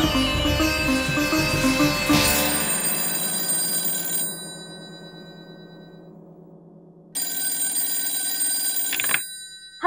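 A telephone bell rings steadily in long sustained tones, with a brief break, then resumes loud and near before cutting off abruptly.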